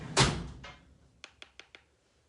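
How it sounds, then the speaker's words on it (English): A door opens with one solid thunk, then a short run of four quick, light latch clicks before it falls quiet. "you just open the door up a little bit, please"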